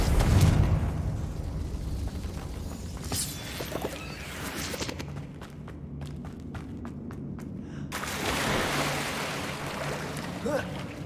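Confringo spell blasts in Hogwarts Legacy, a series of booming explosive bursts with rumbling low end, crackling debris and a swelling roar, alternating with quieter moments of magical shimmer, loud and close.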